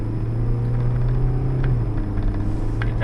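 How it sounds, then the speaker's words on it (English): A car engine rumbles steadily while the car drives onto a freeway, a low constant drone close by with no talk over it. "Alright, we're getting on the freeway, so sorry if I pause and stuff like that"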